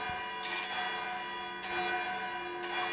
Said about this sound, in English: It's an alarm bell.